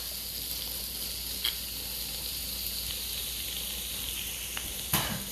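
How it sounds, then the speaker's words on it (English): Cabbage fries in a pan with a steady, even sizzle, broken by a few faint clicks and a small pop near the end; no voices. "you put the cabbage in via layers"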